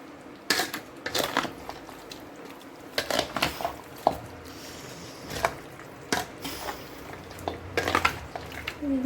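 Chicken curry stirred and mixed in a pot, with a string of close, irregular scraping and squelching clinks from the utensil against the metal.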